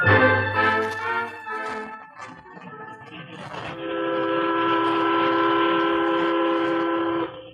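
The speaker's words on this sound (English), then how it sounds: "The eastbound train was only a few miles out of Sandy Gulch" A steam passenger train runs eastbound through Western country, carriages rumbling steadily along the rails under a sustained whistle-like tone that swells and holds loudly over the last half.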